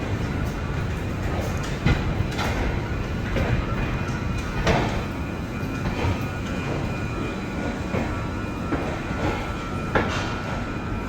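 Interior rumble of the 13212 intercity express train leaving Danapur station in Bihar: a steady low roar with rhythmic clacks of wheels over rail joints as it rolls along.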